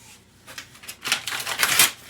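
An easy-peel lid is pulled back from a container in the kitchen, a close, papery crackle and tearing that builds over a couple of seconds.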